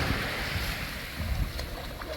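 Waves of a rising tide wash up a beach on the Isle of Wight, a steady close surge of water mixed with wind buffeting the microphone.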